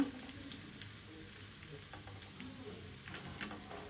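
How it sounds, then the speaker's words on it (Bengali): Garlic fries quietly in oil over a low gas flame, a soft continuous sizzle with occasional light stirring scrapes, close but faint and without speech. "দেখুন রসুনটা আমার কেমন সুন্দর ভাজা ভাজা হয়ে গেছে"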